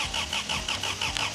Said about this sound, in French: le démarreur entraîne le moteur